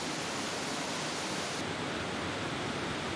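Twin waterfall in Norway, Låtefossen, about 274 m long and flowing in two streams, roaring as a steady, dense wash of falling water with no voices.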